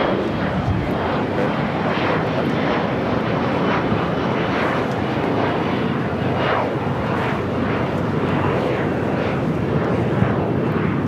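Jet airliners, including a Boeing 747, two A380s and a 777, taxiing at Los Angeles airport, a steady loud engine roar with a rumbling drone throughout and no pauses.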